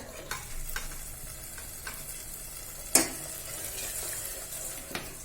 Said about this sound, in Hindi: सिर्फ अदरक लहसुन का थोड़ा सा कच्चापन जाने तक फ्राई करना है।